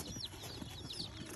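Chirps from a batch of about twenty newly bought chicks, kept alongside hens and pigeons, rise in brief high calls over steady background noise and scattered low movement, with no talk.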